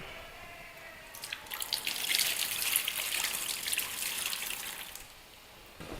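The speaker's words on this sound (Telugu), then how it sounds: "ఆకు కడుక్కునే వాటర్ని కింద పోసేద్దాం" Water used to wash fenugreek leaves is poured out, a soft splashing gush that swells for a few seconds and then tapers off, faint and close, with no talk.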